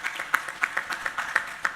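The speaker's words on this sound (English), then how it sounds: "round of applause, please." Audience applause at a plenary session of a conference, heard as a few scattered claps with distinct sharp hits rather than a dense ovation, fairly quiet and distant in a large hall.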